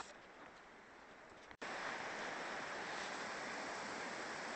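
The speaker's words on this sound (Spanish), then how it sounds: "acá estamos viendo una cascada en el medio de la cordillera" Waterfall in the middle of the Andes mountain range near a forest, a continuous broadband roar of falling water, steady and full, briefly cut off before resuming even louder.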